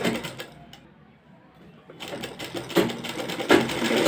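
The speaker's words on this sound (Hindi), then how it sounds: "अब मैं इसमें इस तरीके से फिटिंग की सिलाई लगा लूँगी" A sewing machine runs in bursts while stitching a fitting seam on a garment, its close rapid needle chatter pausing briefly near the start and then building louder, with no talk.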